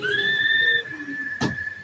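A cheap 50-cent whistle blows a sustained clear tone, steady and fairly loud, then a sharp short burst of noise breaks in near the end.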